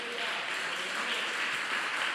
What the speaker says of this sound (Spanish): Aplauda fuerte al Rey de Reyes y Señor de Señores.